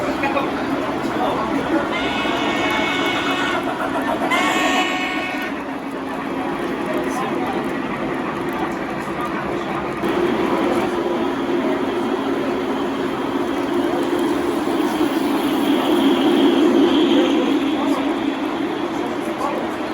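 A train rumbles past with a steady low drone and rattling, loud and continuous, with people talking faintly over it; a milk train engine.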